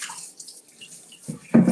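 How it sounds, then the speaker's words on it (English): A short burst of running tap water splashes into a salad bowl as it is rinsed, arriving in the final moment after a near-quiet start. "let me just give this a rinse"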